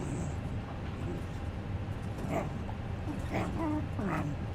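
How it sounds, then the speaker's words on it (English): A small dog named Buttons whimpering and yipping in a few short, rising cries over a constant low background hum, fairly quiet and close. "What's going on, little dog?"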